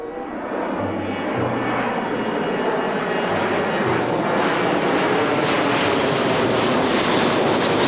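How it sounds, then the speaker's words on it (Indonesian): An Airbus passenger airplane flies past with a steady, loud engine roar that builds slightly and holds throughout, with a low rumbling hum underneath. "Ini merupakan pesawat penumpang."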